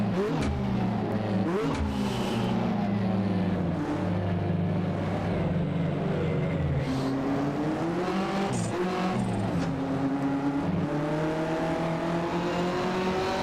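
Race car engines from late-1980s Australian touring cars such as Walkinshaw VL Commodores, a Supra and an R32 Skyline in Assetto Corsa, loud overlapping engine tones rising and falling with shifts and revs, continuous and close.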